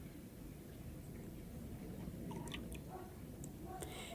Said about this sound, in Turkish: Hemen bir çay kaşığı dolusu kadar limonu sıkıyorum ve bunu suyun içerisine